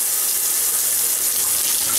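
Water runs steadily from a kitchen tap fitted with a light-up faucet attachment, a loud, even hiss that continues throughout.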